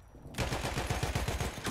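Rapid automatic gunfire in the World War I shooter game Battlefield 1, a loud close burst of evenly spaced shots following a brief quiet start, with no voices over it.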